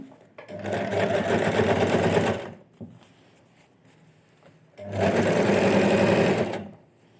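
A sewing machine stitches a pocket onto a nighty in two loud, steady runs of about two seconds each, close up, with a quiet pause and faint handling noises between them.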